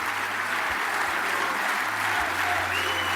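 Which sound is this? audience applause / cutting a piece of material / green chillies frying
audience applause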